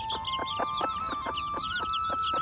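Backyard chickens cluck in a quick, regular series of short calls. The calls are close and moderately loud over a faint background hum.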